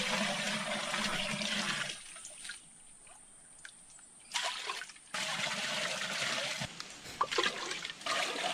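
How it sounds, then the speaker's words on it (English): Dilute iron oxide precipitate is poured into a porous clay pot, giving a rushing, splashing flow that stops briefly mid-way, then resumes with trickles and drips, close and fairly loud. "Pouring iron precipitate into porous clay pot."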